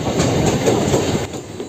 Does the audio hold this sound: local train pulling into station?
yes